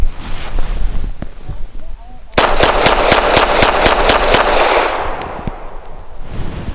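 A Citadel Warbird 1911 .45 pistol fires a full magazine plus one in quick succession, loud sharp reports with echoing decay outdoors, over steady wind noise and background rumble.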